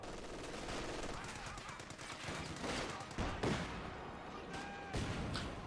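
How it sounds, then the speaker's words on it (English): An MG42 machine gun in a wooden building in Company of Heroes 2 fires in rapid bursts amid distant battle gunfire and explosions, fairly faint, with a commentator talking over it. "MG42 inside of the big wooden building there"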